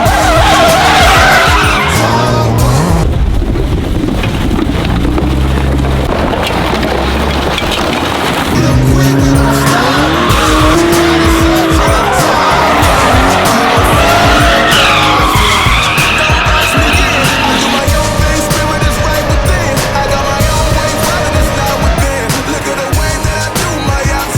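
Drift cars skidding at Xtrem Drift Week Europe, engines roaring and tires squealing loudly and continuously at high angle and speed, with an announcer's voice partly audible beneath the din.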